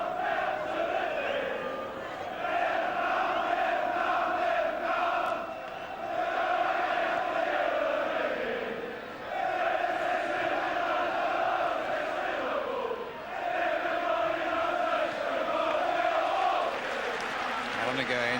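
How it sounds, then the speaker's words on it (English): Football crowd at a Millwall v Wolves league match in a 1992 stadium, a broad sustained roar of fans with rising and falling waves, heard under commentary. "And the fans applauding."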